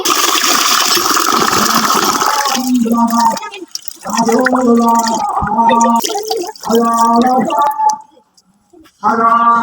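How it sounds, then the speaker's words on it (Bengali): Rice is swished and washed in water for a few seconds of splashing and sloshing, followed by a voice talking over quieter background sounds. "মা চালটাকে ভালোভাবে ধুয়ে নেয়"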